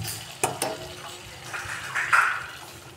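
Potatoes frying in a pan and being stirred, a close sizzle with a couple of sharp utensil knocks near the start and a swelling hiss toward the end.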